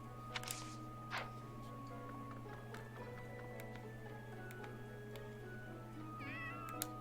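A cat meows in the video game Fire Emblem Three Houses, a few short calls standing out early on over a steady hum of background game music and ambience.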